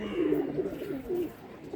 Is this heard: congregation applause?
no